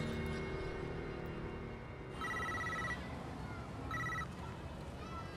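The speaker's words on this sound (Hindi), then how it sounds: "खान को फोन लगाओ।" A telephone rings as a call is placed in a dramatic film scene, two clear electronic ring bursts rising over a steady bed of background noise and score.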